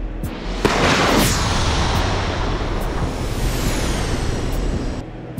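A missile fires from an A-10A Warthog in the DCS combat flight simulator, with a sharp onset followed by a loud, sustained roaring rush that holds for several seconds before cutting off.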